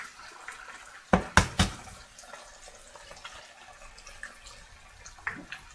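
Raw eggs drop into a greasy pan, a few quick wet splats and crackles close by, followed by a low fizzing sizzle.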